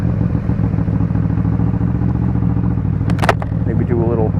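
A motorcycle idles and rolls slowly in first gear through a tight U-turn near a church, its low steady engine note close and continuous, with a brief clatter and a short rising whine toward the end.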